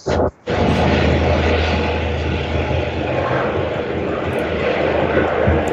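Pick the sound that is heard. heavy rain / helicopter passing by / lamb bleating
helicopter passing by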